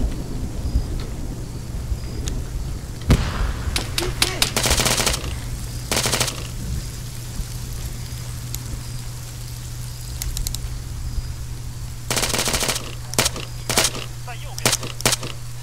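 Gunfire in ARMA 3 combat, with several loud clusters of rapid automatic bursts and single shots between quieter stretches, against a steady low hum and ambient game noise.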